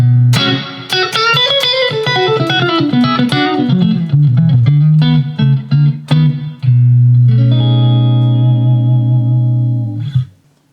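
An electric guitar plays a clean, dry tone through a pedalboard, with picked single notes and chords ringing over a steady low bass note, ending on a sustained chord that cuts off abruptly.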